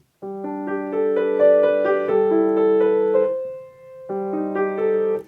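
Piano from an RCM Grade 4 piece, "Reflections," with the sustain pedal changed at each chord: sustained harmonic chords ring in clear blocks, a brief fade near the middle before a new chord enters, no voices.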